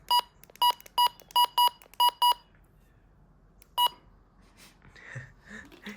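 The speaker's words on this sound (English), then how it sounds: "low pitch button beeps kind of sounds like a scanner" A quick run of seven identical low-pitched button beeps from a Midland HH54VP handheld radio in steady rhythm, a pause, then one more beep, followed by faint background noise.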